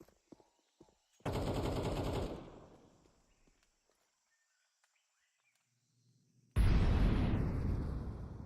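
Counter-Strike gunfire in a European Pro League esports match: a loud sustained burst of rapid automatic shots, a long quiet stretch with faint clicks and steps, then a second heavy burst of fire close up.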